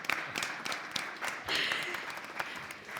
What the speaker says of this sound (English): I'm going to ask you to clap a lot today